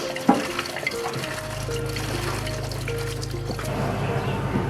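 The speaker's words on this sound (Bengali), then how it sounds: "আমরা সবজিটাকে ভালো করে ধুয়ে নেব।" Running water pours steadily over vegetables being washed for a Bengali crab and pui shak dish, a continuous close splashing trickle with a brief clatter near the start.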